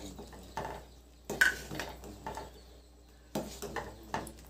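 A spoon stirs basmati rice payasam with melted jaggery in a cooking pot, making sparse, quiet metallic clinks and scrapes in a few separate bursts against a near-silent background.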